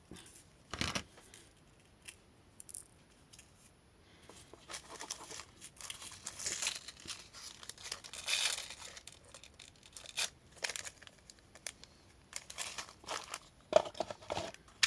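Cutting and handling material for small handmade jewelry, scattered soft snips, rustles and crinkling at close range, quiet and intermittent with gaps, no one speaking.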